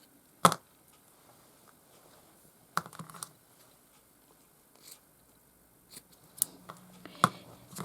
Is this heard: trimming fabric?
yes